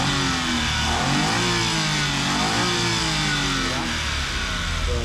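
A DE17V mini van's engine, fitted with an R06E 12-valve VVT timing-chain unit, runs and revs in a steady loud drone that rises and falls in pitch, with someone talking over it throughout.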